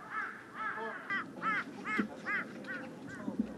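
Crows caw repeatedly in snowy Bukhansan mountain forest, about eight harsh calls in a steady, spaced rhythm at moderate distance over a quiet background with faint low thuds.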